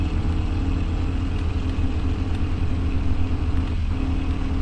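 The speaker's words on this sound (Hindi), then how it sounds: "अभी मैं सीधा गाड़ी लेके चलता हूँ, मतलब स्पीड बहुत ही कम है इसमें" Steady low engine drone of a car driven slowly in Car Sale Simulator, a continuous rumbling hum at constant loudness with no talk over it.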